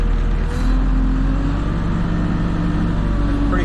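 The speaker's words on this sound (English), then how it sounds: "You rev it up." New Holland backhoe diesel engine running close by, a steady loud droning idle that holds an even note, with a slight rise in revs and no talking.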